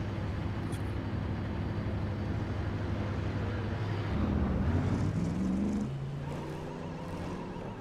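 Engine drone of a Ford Mustang race car running close behind in the iRacing sim at the Nürburgring 24 Hours, a steady roar whose pitch climbs and shifts as it swells nearer, then eases back.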